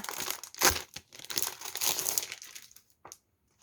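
Crinkly plastic packaging around a newly bought notebook being torn and unwrapped up close in a few short rustling bursts, ending in a brief final crackle, with no talking.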